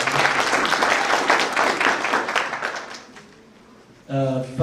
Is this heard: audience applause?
yes